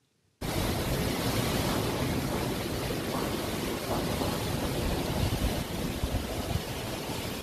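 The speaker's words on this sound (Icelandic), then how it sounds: "Vindhraðin komst í hátt í 60 metra á sekundu þegar fellibylurinn Fani náði landi í borginni Puri í Orissa-fylki" Strong wind and pounding surf from Cyclone Fani making landfall at Puri, Odisha, India, with gusts near 60 metres per second: a dense, continuous roar that cuts in abruptly and stays loud and unbroken, with no voices.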